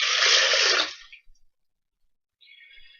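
Water pours briefly during a DNA extraction experiment with peas, a close splashy rush lasting about a second, then a faint trickle after a pause.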